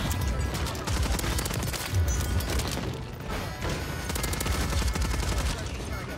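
A Superi 46 SMG fires in Call of Duty: Modern Warfare 3 Season 4, unleashing dense, rapid automatic bursts almost nonstop with brief pauses, loud and close, with heavy thuds mixed in.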